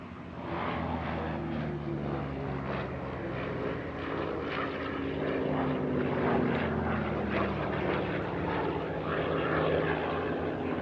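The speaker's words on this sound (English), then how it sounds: "This particular aircraft is a replica made predominantly of parts from T6 Harvards." A CAC Boomerang replica built largely from T6 Harvard parts flies at the Air Legend airshow near Paris, its propeller engine droning steadily and fairly loud.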